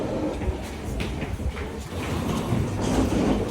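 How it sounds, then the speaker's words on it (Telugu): A London Underground train pulls out of Green Park station with a steady, loud rumble and rattle on an underground platform, no talking over it. "ట్రైన్ వెళ్ళిపోయింది."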